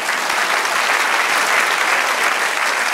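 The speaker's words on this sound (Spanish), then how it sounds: "Denle otro aplauso al Señor." A church congregation claps steadily in praise of the Lord during a sermon, a dense, even burst of applause filling the whole stretch with no speech.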